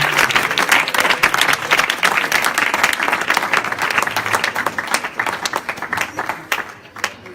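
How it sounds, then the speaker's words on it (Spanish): A church congregation at a Spanish-language evangelical service in Spain breaks into dense, sustained clapping that holds steady, then thins and fades away in the last second. "brindémosles aplausos al Señor de la gloria"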